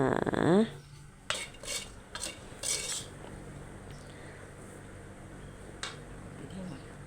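A utensil scrapes and clinks against a pan as stir-fried minced beef with basil is scooped onto a plate, with a few short metallic knocks and a brief sizzle up close.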